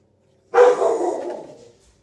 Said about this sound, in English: he just thinks that it's his job to bark at him the whole entire time